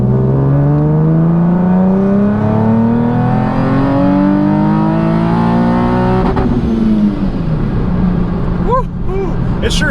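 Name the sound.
Carizon car engine revving during a dyno pull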